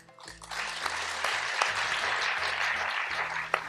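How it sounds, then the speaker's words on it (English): An audience breaks into applause for Gautami ji, rising quickly after a brief hush and then holding as a dense, steady clapping from many hands, with a few sharper claps standing out. "I'd like to applaud Gautami ji for that."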